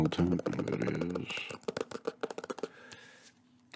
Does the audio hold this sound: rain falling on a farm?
no